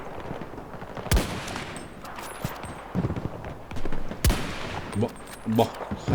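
Sniper rifle shots in Battlefield 2042 Rush mode, two sharp loud cracks about three seconds apart, set against steady game ambience and scattered smaller impacts.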